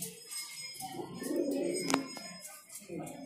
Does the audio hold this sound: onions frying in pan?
no